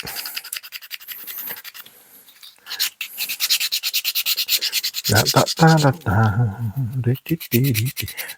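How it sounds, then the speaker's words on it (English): Sandpaper rubbed over MDF while building a terrain model, a steady scratchy rasp of repeated strokes up close, with a talking voice cutting in near the end. "Sandpaper."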